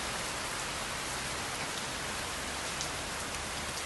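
Steady, dense rainfall hissing continuously at an even level, with no voices or other sounds.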